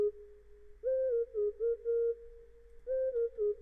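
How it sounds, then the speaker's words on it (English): A clean synthetic whistle, the winter whistle sound from Purity, plays a short looping melody, a sustained tone, then bursts of gliding notes, repeating twice with brief pauses. "So I did this whistle sound, winter whistle from Purity."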